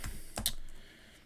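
Keys on a computer keyboard are tapped in a short burst of a few quick, close clicks, followed by quiet.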